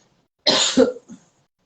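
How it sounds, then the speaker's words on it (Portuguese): A woman coughs at close range, one harsh burst followed by a second shorter cough and a faint trailing catch, alone with no talk. "Comecei a tossir."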